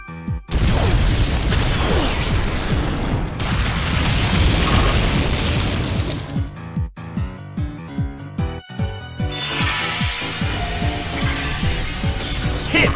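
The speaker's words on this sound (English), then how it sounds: "Hit by Flash Cannon!" Flash Cannon attack in the Pokémon Battle Revolution video game: a loud, sustained burst of game effects with a dense roaring blast, then a run of rapid rhythmic impacts and a bright shimmering finish, no voices.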